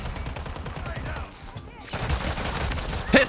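Gunfire in Modern Warfare 3, a burst of rapid shots with clattering impacts, briefly dropping off before more shooting, with a loud sharp blast at the end.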